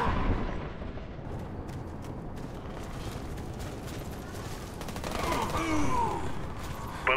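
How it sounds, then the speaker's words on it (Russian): A grenade blast in the Warface shooter game rumbles through dense, continuous gunfire and explosions, loud and layered from start to finish. "Кидаю гранату."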